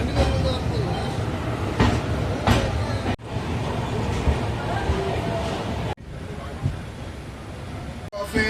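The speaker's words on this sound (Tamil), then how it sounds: "அந்த ட்ரெயின் பாருங்கள், கோயம்புத்தூரில் இருந்து ஹசரத் நிசாமுதீன் போகக்கூடிய டெல்லி ட்ரெயினுங்க" Delhi-bound train to Hazrat Nizamuddin departing Coimbatore station: a broad, steady rumble and rattle of rolling carriages with a few sharp clanks, loud and continuous, broken by abrupt cuts, with a voice talking over it at times.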